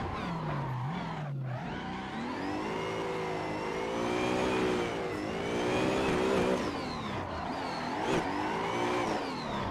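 A car drifts off-road in the racing game Assetto Corsa at Ebisu Minami, its engine revving and wailing up and down continuously, loud and close, with no talking.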